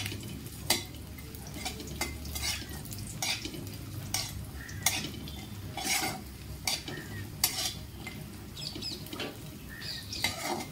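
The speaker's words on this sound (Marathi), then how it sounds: "याला पण थोडंसं खरपूसच भाजून घेऊयात, थोडा सोनेरी कलर येऊपर्यंत. तर हलवतच राहूयात, कारण खोबरं पण पटकन जळलं जातं." Thin slices of coconut are stirred and dry-roasted in a pan until golden, with a steady soft sizzle and repeated sharp scrapes and clinks of a spoon against the metal, close by and without talk.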